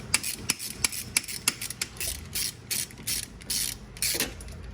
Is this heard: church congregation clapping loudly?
no